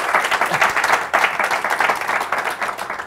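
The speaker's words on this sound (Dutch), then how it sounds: "graag een applaus voor Peter van der Boogaard" Audience applause for a guest on a live talk show, a lively burst of many hands clapping with a slightly rhythmic pulse, fairly close and loud throughout.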